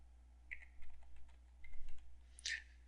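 Password being typed on a computer keyboard, a few quiet, close key taps in small bursts over a faint steady hum.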